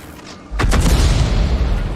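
An artillery round fired from a Panther-based self-propelled gun in a tank battle game, a sudden heavy boom after a quiet lead-in followed by a rumbling decay.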